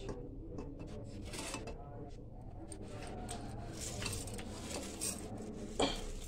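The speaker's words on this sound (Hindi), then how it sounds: "अब हमको इसमें चावल मिक्स करना है।" Rice being stirred into vegetables in a home-kitchen pot while making tehri, with steady scraping and clinking of a spoon against the metal pot and a brief louder clank near the end, continuous and close.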